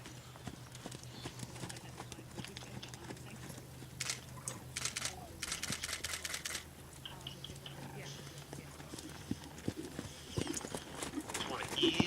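Horse trotting under a rider on a first ride, hooves clip-clopping in a steady rhythm at moderate distance, with someone talking over the footfalls throughout.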